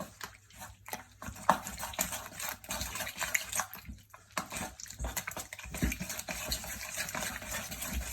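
Sourdough levain being stirred into water in a bowl: continuous wet sloshing and swirling, close and moderately loud, with small splashy clicks throughout.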